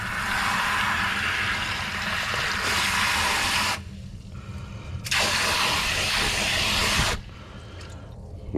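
Water runs steadily while gold is rinsed out of ash during recovery work, a continuous rushing hiss that cuts back to a quieter trickle twice, then resumes.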